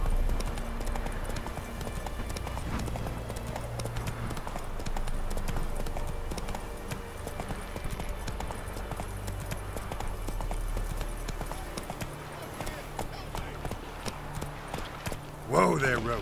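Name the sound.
horse Roach's hooves in video game Witcher 3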